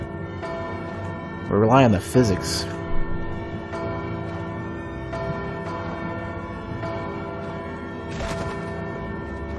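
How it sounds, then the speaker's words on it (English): A bell in the Bloodstained: Ritual of the Night video game struck a couple of times, ringing loud with resonant tones that fade, over game background music while someone talks. "I was only going to smack the bell a little bit."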